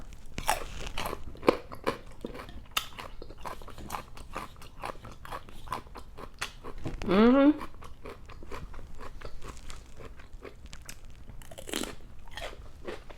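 Loud crunching and chewing of food during a mukbang featuring Native foods and ranch-dipped french fries, with a steady run of sharp close-up bites and crackles and a brief vocal sound partway through.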